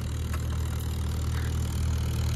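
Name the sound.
scooter engine started and idling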